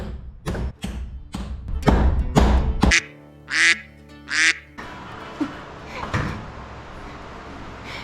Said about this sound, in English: There'll be a lot of ducks quacking in that video.